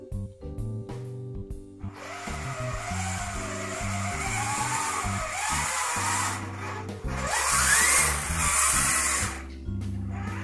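The electric motor of an RC4WD Beast 2 Cobra Edition RC truck whirs in low gear, rising and falling in pitch as it revs, with mechanical clicks at the start and a loud, close drivetrain whine.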